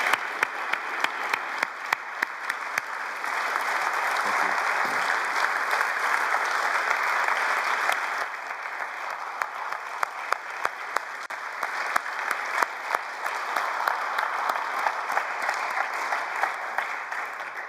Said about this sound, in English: Can we just give Billy a round of applause?